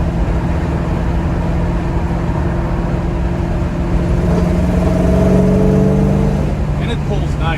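A 1971 Chevrolet Chevelle cruises at 60 mph, about 2,500 RPM, giving a steady, loud engine and road drone from inside the car that holds an even pitch throughout.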